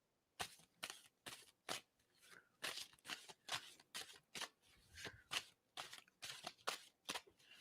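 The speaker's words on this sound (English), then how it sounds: "I'm going to stop shuffling on this." Tarot cards are shuffled in quick, crisp bursts, a steady series of riffling snaps close up with short pauses between them.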